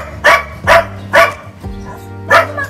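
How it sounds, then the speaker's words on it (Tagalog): A dog indoors barks at a closed door, four loud, close, evenly spaced barks with short gaps and no talk. "Sarado yung pinto kaya kumakahol."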